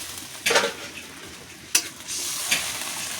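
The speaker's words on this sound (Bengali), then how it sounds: "এখন ঝোলটা ফুটতে থাকবে।" Spicy bhola fish curry gravy bubbles and sizzles steadily in a pan on the stove. A few sharp clinks of a utensil rise over the simmering hiss.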